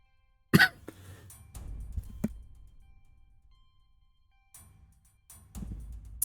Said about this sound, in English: whoops, I'm sorry for the coughing.